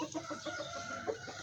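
Hens clucking inside a chicken coop: several birds make overlapping short, throaty calls at a moderate, close volume, with no talking.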